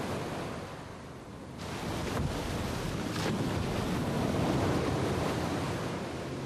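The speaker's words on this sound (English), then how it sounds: "So the yacht was taking the full force of the waves hitting into the side of it." Ocean waves break against the side of an anchored yacht in gusty weather, a broad rushing wash that swells and builds toward the end, mixed with buffeting wind noise on the microphone.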